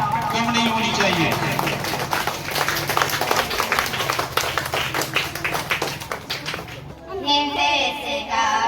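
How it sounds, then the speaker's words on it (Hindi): Audience applause at a children's coaching centre Independence Day celebration welcoming four schoolgirls, a dense sustained clapping throughout, with a voice speaking over it near the start and end. "एक बार जोरदार तालियों से स्वागत करें इन चारों छात्राओं का"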